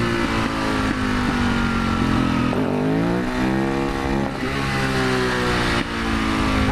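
A supermoto motorcycle revs hard while lapping a riding area and pulling wheelies. The engine note is loud and close, rising and falling with throttle blips and gear shifts, and no voices are heard.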